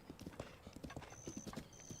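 Horse hooves clip-clopping in Zelda: Breath of the Wild as the player rides across open ground, a quick rhythmic run of hoofbeats with a brief whinny and faint game chimes.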